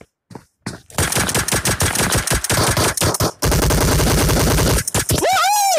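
Rapid gunfire in a pistol-only match of a mobile battle royale shooter, loud dense bursts of shots over roughly five seconds with brief gaps, ending in a rising electronic game tone.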